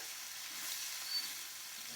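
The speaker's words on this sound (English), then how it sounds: "you can hear the sizzle" A steady, bright sizzle of jumbo shrimp frying in a hot pan, a continuous crackling hiss with no talking.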